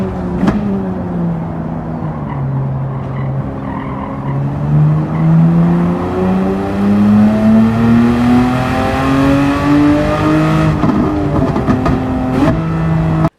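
Race cars in the racing video game Gran Turismo 7, engines revving loudly and continuously with rising pitch while tires squeal and skid, with no talk.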